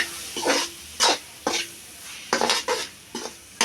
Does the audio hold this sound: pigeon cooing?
no